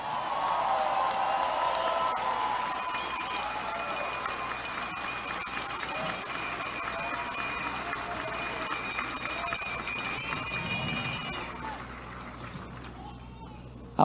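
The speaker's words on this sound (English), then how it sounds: "give him a round of applause" Crowd at an outdoor political rally near Washington DC applauds and cheers for a man who brought over a thousand people by bus, a steady broad roar of clapping that holds for about eleven seconds before thinning out.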